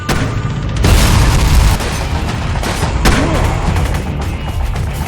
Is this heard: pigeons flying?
no